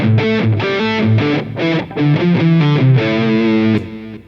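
Electric guitar with heavy distortion plays a rock lead of sustained, thick chords and notes, loud and up close with no voices, the sound cutting off near the end.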